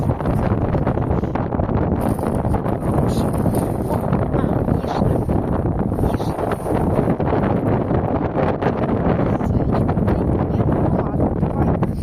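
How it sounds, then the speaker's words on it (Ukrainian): Strong wind roars steadily into the microphone, a dense, unbroken buffeting rumble that stays loud for the whole stretch with no clear voices. "в цьому місці, завжди такий сильний вітер"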